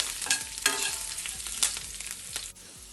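Ginger sizzling in hot oil seasoning with curry leaves for South Indian curd rice, a crackling hiss broken by several sharp scraping stirs of a spoon, close and moderately loud.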